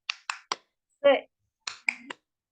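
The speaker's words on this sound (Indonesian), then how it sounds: "Kita coba, oke, 1, 2, 3, tepuk semangat" A classroom of children performs the tepuk semangat chant, three sharp claps, a shouted word, then more claps and a final shout, in a short rhythmic burst.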